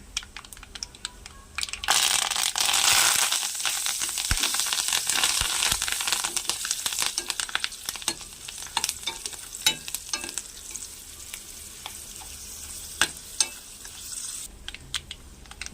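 Curry leaves dropped into hot oil for a gongura chana dal curry, bursting into a loud, crackling sizzle after a quiet start, then settling into dense spattering pops that fade near the end.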